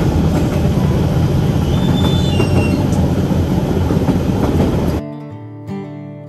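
An overnight train to Lao Cai Station in Vietnam rolls along the tracks with a loud, steady rumble and clatter of wheels. The noise drops off abruptly near the end, leaving quieter background sound.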